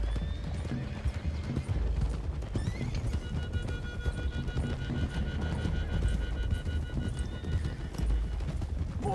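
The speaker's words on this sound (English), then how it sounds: "Wild horses." A herd of wild horses gallops across rocky country in a Western open-world game, their hooves clip-clopping in a dense, continuous patter. Several whinnies and neighs rise over the running, all fairly close and steady in level.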